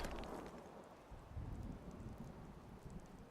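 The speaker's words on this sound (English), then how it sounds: "That rain is really coming down." Heavy rain pours down in a steady, even wash of noise outside a cabin, soft and distant, with no pauses and no voices.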